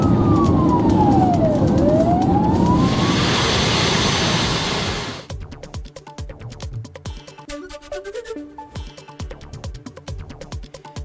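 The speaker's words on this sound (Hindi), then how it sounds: "यूक्रेन के विनित्सिया शहर पर हमले का अलर्ट बज रहा है। खतरे का सायरन।" An air raid alert siren wails in Vinnytsia, Ukraine, loud and rising and falling in long sweeps for about five seconds, then gives way to a different rhythmic pulsing tone.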